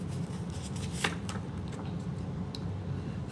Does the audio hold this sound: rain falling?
no